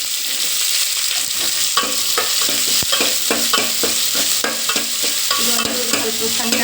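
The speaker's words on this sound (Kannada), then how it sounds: "ಇವಾಗ ಒಂಚೂರು ಈರುಳ್ಳಿ ಹಾಕೊಂಡ್ರಿ" Chopped onion frying in a hot pan for bitter gourd palya, a steady sizzle with repeated spatula scrapes and clicks against the metal, close and continuous.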